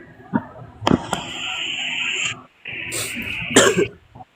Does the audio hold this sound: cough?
yes